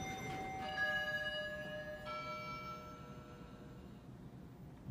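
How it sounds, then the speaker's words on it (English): A Schindler 3300 MRL traction elevator chime rings in a college building, with clear sustained bell tones sounding one after another and slowly fading over a low hum of background noise. "so that way you can hear both the external and internal chime"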